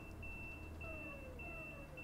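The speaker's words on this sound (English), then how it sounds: "What's that beeping noise?" A faint, regular electronic beeping alarm sounds inside a Class 323 electric train cab in Train Sim Classic, repeating several times over a low steady hum of the cab.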